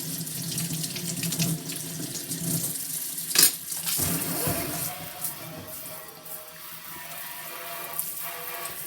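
Hand knitting rinsed under a running tap to wash out dish soap, a steady splashing stream with brief clatters and a sharp knock partway, close and alone.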